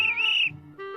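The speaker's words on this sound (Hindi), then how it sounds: "ओ भाई यार, क्यों सीटियां मार रहे हो?" A person whistles a short, clear, high tone that slides slightly and then breaks off, followed by a brief lower voiced sound, all close and fairly loud.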